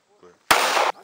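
A single sharp, loud shot rings out from a Sig Sauer MPX tactical 9mm carbine pistol, a short abrupt blast that cuts off cleanly, preceded by a brief low murmur of voices.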